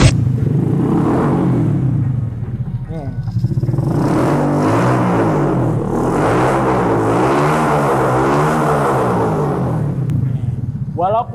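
A Suzuki Karisma custom bobber motorcycle idles loud and close with a deep, throaty exhaust burble, its engine note rising and falling in several revs over a steady rumble.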